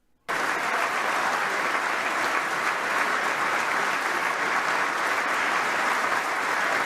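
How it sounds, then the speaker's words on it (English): An audience breaks into steady, dense applause after a brief quiet start, the clapping loud and unbroken for several seconds with no talk over it. "Bro, clap harder."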